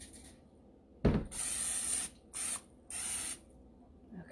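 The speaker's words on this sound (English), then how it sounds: "get my cooking spray here." A sharp click, then three hissing bursts of cooking spray from an aerosol can in quick succession, close by, with quiet pauses between, greasing a pan for croissant French toast.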